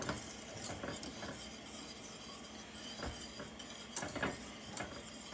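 Soft scraping and stirring of a utensil in a pot of boiling chocolate pie filling, with gentle bubbling and occasional clinks, quiet and close.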